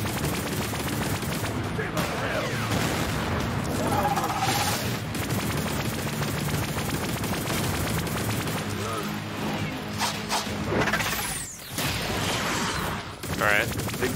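Bursts of gunfire from weapons in the action roguelite shooter ANVIL: Vault Breakers, including a freeze rifle, crack in dense rapid volleys with booming blasts through a loud, busy mix, while a voice talks over the action.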